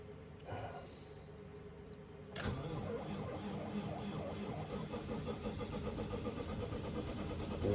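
A New Holland tractor engine cold-starts after a low idle rumble, catching abruptly and settling into a loud, steady, slightly rough running clatter that continues to the end.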